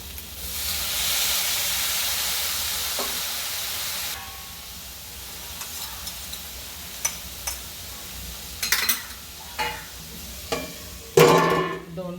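A steady broadband hiss of steam from a covered pan of cooking vegetables fills the first few seconds, then fades to quieter bubbling with a few clinks and a sharper rush near the end.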